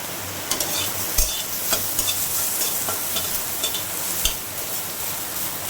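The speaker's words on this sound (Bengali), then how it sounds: "কিন্তু খুব ভালো করে ভাজতে হবে" Banana flower paste fries in a dry pan without oil, giving a steady close sizzle broken by scraping stirs and a few louder knocks of the utensil against the pan.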